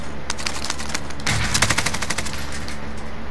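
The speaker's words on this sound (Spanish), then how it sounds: "¿Quién está disparando?" Rapid automatic gunfire from the Call of Duty: Modern Warfare video game, a dense burst of overlapping shots that swells in the middle of the clip over a steady background hum, with no talking.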